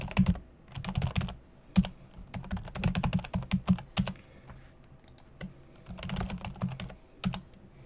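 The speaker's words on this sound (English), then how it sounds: "I'll go ahead and type the line in first" Fingers type on a Commodore 64 keyboard, close and clacky, in quick bursts of keystrokes separated by short pauses.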